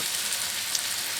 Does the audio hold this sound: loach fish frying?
yes